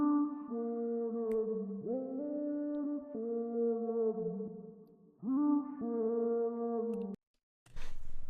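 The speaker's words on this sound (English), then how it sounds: "this one vocal sound that transformed the whole beat" A wavy, pitch-bending vocal sample from a beat produced in Ableton Live sustains in sliding tones, cuts out briefly near the end, and then gives way to a short noisy burst. It plays alone, with no talking.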